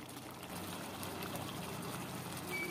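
Water pours into a pot of Rayalaseema-style chicken curry, a steady close trickle and splash of liquid filling the pan, fairly quiet and alone.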